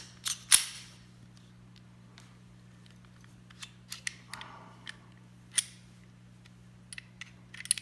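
Small metal clicks and clacks as a Kimber pistol's slide and pin are reassembled by hand, a sharp snap near the start followed by scattered faint taps, close and quiet over a low steady hum.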